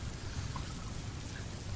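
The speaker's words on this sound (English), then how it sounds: "It is raining here." Soft, continuous rainfall patters steadily with occasional distinct droplets standing out, a quiet, even ambient wash with no voices over it.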